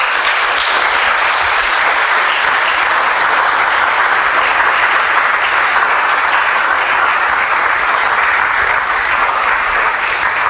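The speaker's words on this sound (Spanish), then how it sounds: "Le puede rendir palmas fuertes al Señor" A church congregation claps loudly in praise, a dense, steady roar of applause filling the room without pause from start to finish.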